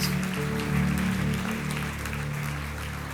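A church congregation at a French-language Sunday morning service applauds: a sustained, dense round of clapping from many people, heard over steady sustained musical tones.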